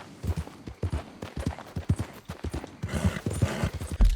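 Horse hooves clip-clopping in Red Dead Redemption 2, a steady trotting rhythm of close, distinct thuds running throughout, with a brief whinny-like sound possible near the end.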